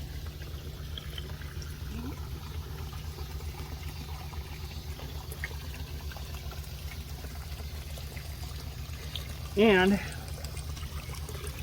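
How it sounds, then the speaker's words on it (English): A pond pump pushes water out to a garden waterfall, a steady close trickling and pouring over a constant low pump hum. A brief voice comes in near the end. "it's running out to the waterfall that's running"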